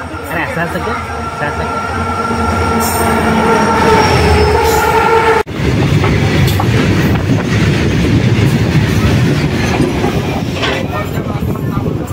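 A Konkan Railway train rumbles past close by with rhythmic clatter and high wheel squeal, loud and continuous, with voices faintly audible beneath.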